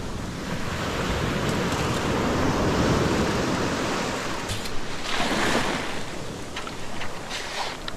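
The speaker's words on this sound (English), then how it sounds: "Yeah, that was a big wave." Ocean waves breaking on a beach: a loud, continuous rush of surf that builds and then washes back, with a brief splash partway through and no talk over it.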